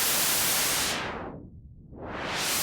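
White noise runs through a synthesizer filter as the cutoff sweeps down, dulling to a muffled rush, then opens back up to a full bright hiss; steady and loud, with no talking.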